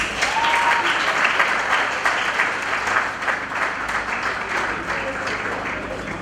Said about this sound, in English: clap for these boys.